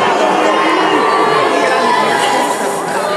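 A loud, sustained roar of crowd voices at the Dutch Bloggies 2007 awards ceremony, booing and shouting together in a dense, continuous mass that eases slightly toward the end.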